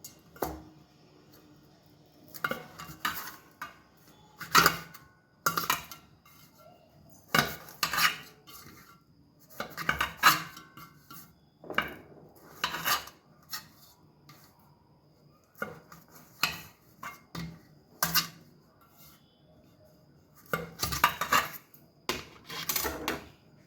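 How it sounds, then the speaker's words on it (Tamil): A knife trims the crust edges from bread slices on a cutting board, giving intermittent light taps and scrapes spaced a few seconds apart, with quiet pauses between cuts. "இப்போ நான் பிரெட்ஸோட சைட்ஸ் எல்லாம் கட் பண்ணி எடுத்துக்கிறேன்."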